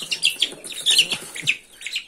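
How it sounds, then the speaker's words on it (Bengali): Native desi chicken chicks peep close by in a rapid run of high, thin chirps, several overlapping calls with a few soft lower clucks underneath. "এটা হচ্ছে দেশি মুরগির বাচ্চা"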